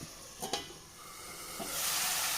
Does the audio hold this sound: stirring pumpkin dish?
yes